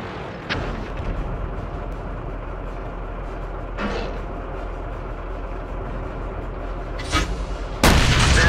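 Tank cannon fire in World of Tanks, heavy booming shots at intervals, a loud burst near the end, over a constant low rumble of engine and battle ambience.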